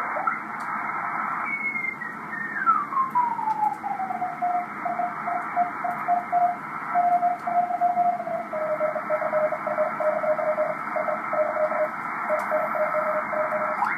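Fast Morse code on a ham radio band, a continuous stream of rapid keyed tone pulses, one signal sliding down in pitch as it is tuned, over a hiss of band noise.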